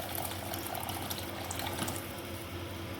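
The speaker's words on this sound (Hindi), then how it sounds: "ये देखिए पानी मैंने इसमें अच्छे से पानी डाल लिया है" Water runs steadily into a pot of roasting cracked wheat being cooked into dalia over a low flame, a soft continuous pouring and splashing heard close up with no talk.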